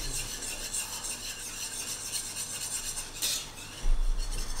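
A spoon stirs erythritol into a no-bake cheesecake mixture, making a continuous close scraping and rasping against the bowl with a few slightly louder strokes near the end.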